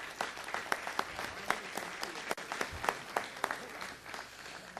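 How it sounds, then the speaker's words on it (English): Applause at a city council meeting: a room of people clapping steadily for about five seconds, with sharp individual claps standing out over a dense, moderately loud patter and no talk. "give her a nice round of applause"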